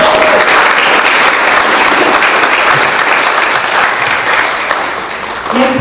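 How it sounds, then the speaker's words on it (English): Loud, sustained round of applause from an audience at a Fountain Hills Chamber of Commerce event, steady and dense from start to finish, gradually thinning slightly toward the end. "a round of applause"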